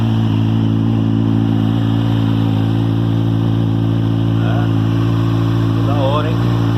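Kawasaki Z1000 motorcycle fitted with an aftermarket sport exhaust, dB killer removed, idling with a loud, steady deep rumble throughout, close by; a few brief chirpy sounds rise near the end.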